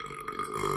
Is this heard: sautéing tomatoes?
no